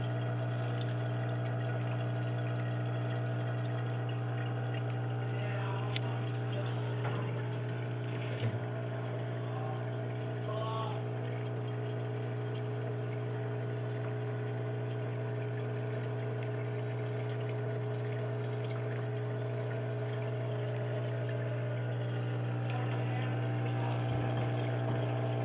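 Water sluices steadily through a homemade gold bowl as fine gravel under 1/8 inch is washed, a continuous pump-driven rush with a low hum and occasional small clinks, close and even throughout.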